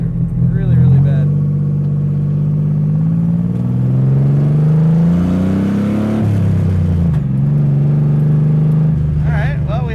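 A Datsun project car's engine revs and pulls through a gear, the note climbing steadily then dropping, loud and close, likely heard from inside the car.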